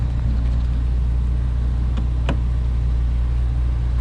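A Ford Shelby GT350R from 2015 idles with its doors locked, a steady low engine drone holding even throughout, with two faint brief clicks partway through.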